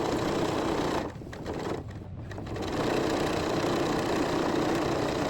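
A sewing machine backstitches a messenger bag seam, a steady mechanical whir that briefly slows and dips twice as the stitching direction reverses, then resumes at full speed.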